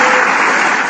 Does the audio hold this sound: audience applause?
yes